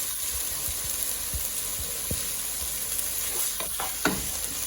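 Carrot and other vegetables fry in a sofrito with a pinch of salt for a lentil and vegetable stew, a steady gentle sizzle broken by a few low knocks and stirring scrapes, no voices.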